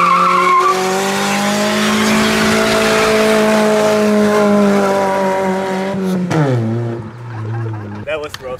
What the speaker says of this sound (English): Yeah, giant burnout.